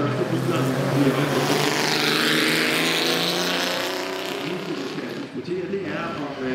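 Historic race cars run at the Copenhagen Historic Grand Prix, a continuous loud engine roar that swells and fades as cars pass, with a voice talking over it.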